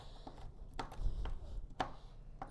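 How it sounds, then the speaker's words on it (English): Pistachios are chopped with a knife for a golden pear tart: a few sharp, quiet cuts on a board, irregularly spaced, over a low background hum. "We're chopping pistachios."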